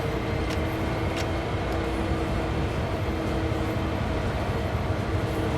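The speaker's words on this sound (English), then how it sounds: "He is a long train, isn't he?" A long freight train running on the Sand Patch Grade in the Train Sim World 2 video game, a continuous loud rumble of rolling wagons and heavy engine drone with a steady tonal hum and faint clanks, no voices.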